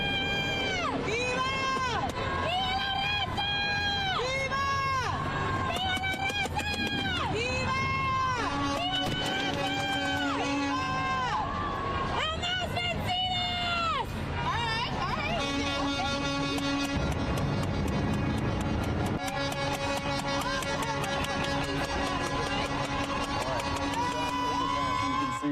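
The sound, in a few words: street protest: car horns honking, fireworks, distant crowd chanting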